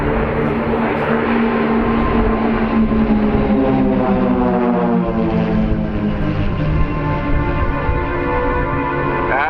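Several propeller aircraft flying in close formation at the RAF Cosford airshow give a loud, steady engine drone with shifting tones as they pass overhead, continuous throughout with no talk.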